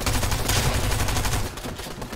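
Gunfire in the Fortnite video game, a dense burst of rapid shots that runs loud and continuous for about a second and a half before thinning out.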